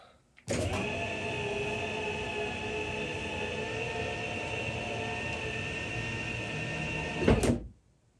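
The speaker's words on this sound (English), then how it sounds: "When I press the door button, it'll automatically turn the TV off." The motorized door of a 1981 Sony Trinitron KV-3000R television closes with a steady mechanical whir lasting about seven seconds, framed by a click at the start and a thud as it shuts, close and alone.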